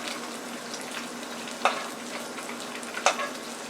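Eggs frying in a hot pan with steady sizzling and crackle, a couple of sharper pops standing out, close and moderately loud with no talking.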